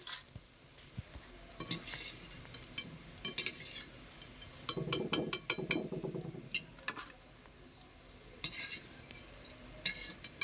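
Gram-flour boondi batter drips into hot oil, giving a steady close sizzle with brief bursts of bubbling, interspersed with light metallic clinks and stirring scrapes of a ladle against the pan.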